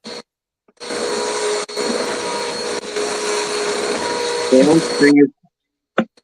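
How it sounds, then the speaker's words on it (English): A vacuum cleaner drones loudly and steadily for several seconds in a room during a livestream, cutting briefly once, then stopping abruptly near the end, with a short voice fragment just before it stops. "I can hear the vacuum"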